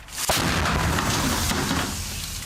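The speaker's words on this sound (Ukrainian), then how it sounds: "Увага, постріл!" A single loud gunshot booms out close by on the front line near Pokrovsk, Ukraine, followed by a long rumbling echo that slowly fades.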